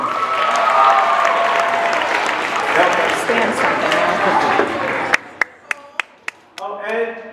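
Dense applause from a school assembly crowd fills most of the stretch, steady and loud, then cuts off and gives way to a few sharp knocks and someone speaking.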